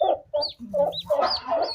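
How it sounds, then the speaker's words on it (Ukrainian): Close-up clucking and chattering from turkeys, a run of short throaty calls and higher squawks in quick succession. "Це є всякі індики."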